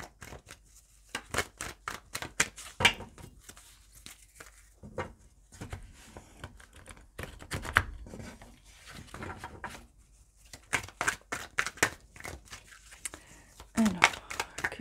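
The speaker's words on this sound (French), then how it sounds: "Je vais prendre le temps d'abord de bien mélanger ce jeu." A deck of tarot cards is shuffled by hand in rapid bursts of soft riffling and slapping, close and quiet, the bursts separated by brief pauses.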